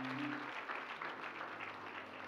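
A church congregation gives a short burst of sustained hand clapping in praise, with a faint voice trailing off at the start.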